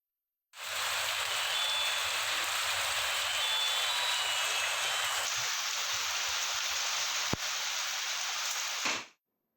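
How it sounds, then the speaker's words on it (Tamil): Heavy rain pours steadily with wind across parts of Tamil Nadu, a dense continuous hiss that stays loud and even for about eight seconds before cutting off, with no voices. "பல்வேறு பகுதிகளில் காற்றுடன் கூடிய மழை பெய்தது"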